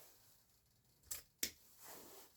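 Scissors snipping through material while an artificial Easter swag is made, two quick close cuts about a third of a second apart in an otherwise quiet room.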